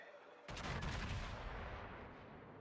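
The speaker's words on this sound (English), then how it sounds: "8th grade makes a blind shot on the Moskva." A battleship gun salvo in World of Warships, fired by the Großer Kurfürst: a sudden heavy boom with a broad blast that rolls into a long, slowly fading rumble.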